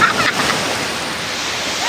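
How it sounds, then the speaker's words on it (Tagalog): Strong sea waves surging onto a beach in Pangasinan, a loud continuous roaring wash close by, heaviest at the start and then a sustained hiss of churning surf. "Grabe guys, yung alon."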